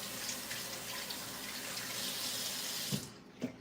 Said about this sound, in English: Rinse out my hand.